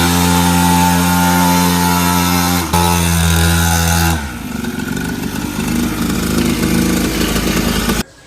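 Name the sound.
loud dirt bike engine revving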